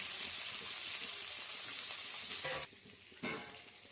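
Dried chilies, cumin, chopped garlic and onion sizzle and fry in a pan, a loud steady crackle that drops off sharply near the end, then briefly flares up again.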